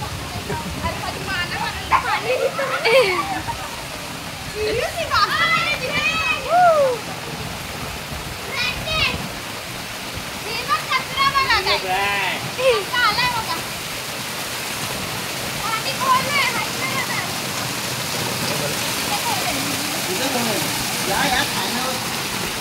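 Rushing water from a rising stream during a family villa trip roars steadily and fairly close. Children's shouts and voices come and go throughout.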